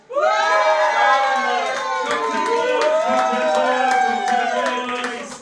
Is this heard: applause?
yes